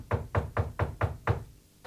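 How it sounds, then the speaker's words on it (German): Six firm knocks on a door in a radio drama, evenly spaced and close, followed by a pause and one fainter final knock; no voices. "Es klopft."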